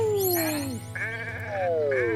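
Sheep bleating in the Renowned Explorers video game, several drawn-out wavering bleats in a row, loud and near, with no voices over them.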